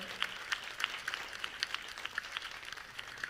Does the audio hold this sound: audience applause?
yes